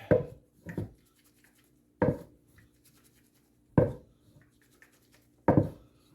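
A cake pan holding a chocoflan is shaken by hand, giving four or five separate rattling knocks spaced about two seconds apart with quiet between them.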